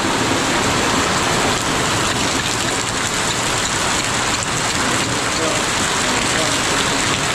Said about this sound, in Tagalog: Parang may bagyo ata.